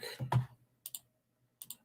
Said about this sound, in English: I'm clicking on the wrong thing here.